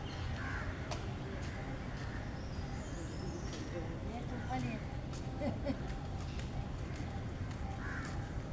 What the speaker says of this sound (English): These are a lot of crows, pigeons.